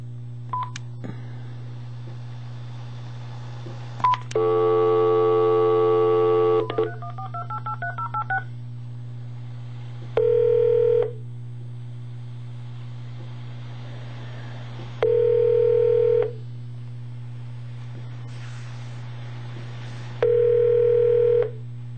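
Telephone keypad tones sound during a voicemail menu, with short beeps first, then a longer dual tone, a quick run of key presses, and three more evenly spaced tone bursts, all over a constant low hum.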